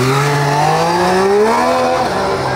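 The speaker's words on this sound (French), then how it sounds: "Elle fait plus de bruit, sa moto." A loud motorcycle with an aftermarket Arrow exhaust revs up nearby, its raspy exhaust note climbing steadily in pitch before easing off.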